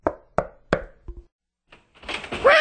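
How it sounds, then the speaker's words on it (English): Three sharp, evenly spaced knocks on a door in an animated children's story, loud and close, followed by a faint thud and then a rising rustle of movement. "He knocked on her door."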